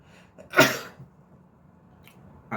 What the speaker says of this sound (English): I always have to sneeze during videos.